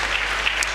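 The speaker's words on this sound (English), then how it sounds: "give them all a huge, huge round of applause" Applause from an audience at a live Saturday night choir show at a resort, a brief burst of steady clapping at moderate loudness.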